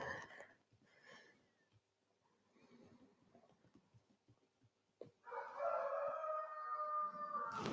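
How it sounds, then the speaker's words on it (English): Goldilocks the rooster lets out one loud, drawn-out crow near the end, following a quiet stretch with faint background sounds. "It's Goldilocks, my rooster."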